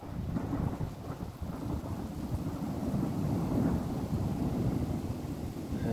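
A thunderstorm in Meyzieu, France, with steady heavy rain and a deep rolling rumble of thunder throughout, dense and continuous with no voices.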